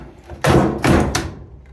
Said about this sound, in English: Just bring it up this way. Hook in your door switch.